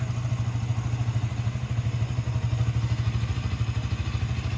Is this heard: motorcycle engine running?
yes